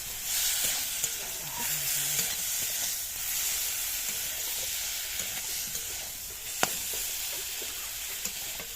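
Ground masala spices, loosened with a splash of water, sizzle and hiss steadily in a pan for a cauliflower curry, with occasional scrapes and clinks of a spatula stirring through the mixture.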